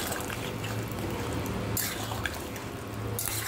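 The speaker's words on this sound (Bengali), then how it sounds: "তো চলো এখন এর মধ্যে জল দিয়ে দিই" Water poured into a cooking pot of flattened-rice pulao on the stove, a close splashing trickle that comes in bursts, pausing and resuming.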